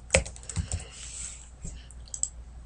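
Typing on a computer keyboard, quiet and close, with a few scattered key clicks and short bursts of keystrokes over a hushed background.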